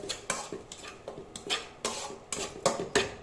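A utensil scrapes and taps against a pan as onions and spices with turmeric are stir-fried for fish fingers, about ten quick clinks and scrapes in an uneven rhythm, near and fairly quiet, with no talking.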